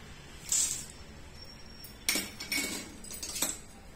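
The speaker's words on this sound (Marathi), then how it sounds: "सर्वप्रथम आपण शेंगदाणे भाजून घेऊ" Peanuts dry-roasting in a pan, giving scattered light clinks and rattles in a few short bursts against a quiet kitchen background.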